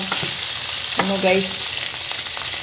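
Steady crackling sizzle of meat frying in its own fat in a pan, with a brief clink of a utensil partway through, no voices.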